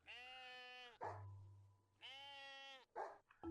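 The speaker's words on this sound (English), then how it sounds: "Why are my crops barking?" Dog barking in the farm management game Master Plan Tycoon: two long, harmonic, bleating-like bark calls, each followed by short sharp yips, clear and alone.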